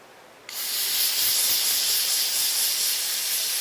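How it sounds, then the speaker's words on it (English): A steady, close hiss of carb cleaner sprayed onto the diaphragm of an Echo SRM string trimmer carburetor, starting abruptly and holding one continuous blast to the end. "I just like to give it a good squirt of carb cleaner"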